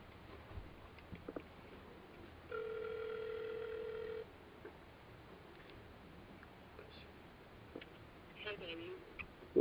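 Telephone ringback tone, a single steady electronic ring lasting under two seconds that goes unanswered, heard faintly over low background noise and scattered clicks, with no one picking up.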